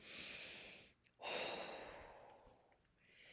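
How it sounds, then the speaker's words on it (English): Someone takes a slow deep breath in through the nose, pauses, then blows it out through the mouth in a long soft exhale, close and quiet, followed by a second breath beginning. "You're going to take a deep breath in through your nose and blow it out through your mouth"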